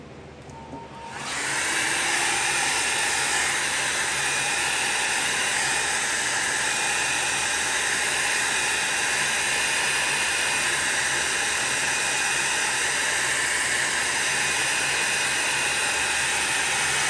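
A hair dryer switches on after a second and blows with a loud, steady roaring hiss that continues unbroken to the end.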